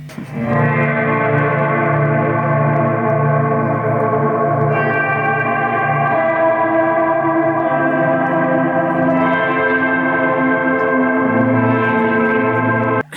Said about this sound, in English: my second reverb is very wet, kind of, I think it's a plate reverb